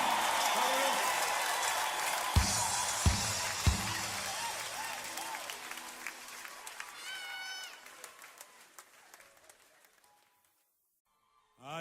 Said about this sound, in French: Donnez-lui des acclamations.